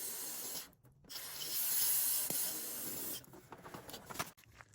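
Brake cleaner from an aerosol can hisses onto the steering rack hose area of a 2003 Chevy Silverado, with one short burst followed by a longer steady spray and some faint handling noises afterward.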